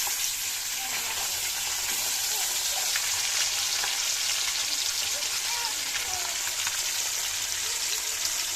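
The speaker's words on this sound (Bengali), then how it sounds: "এখন মাছগুলো ভেজে নেবো" Fish pieces fry in oil in a wok, giving a steady, dense sizzle and crackle that runs throughout at close range with no pauses.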